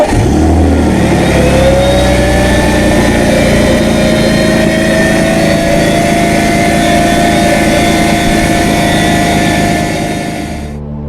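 A BMW 3 Series E46 with the M54 straight-six engine runs loudly nearby after a rocker cover gasket replacement, revving up with a rising whine and then holding a steady, strong drone before fading slightly at the end.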